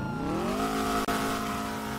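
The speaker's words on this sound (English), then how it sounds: "the car sounds like shit" A car engine revs steadily upward in the game GTA V on a NoPixel roleplay server, a rising harmonic whine that levels into a sustained drone with one brief dropout.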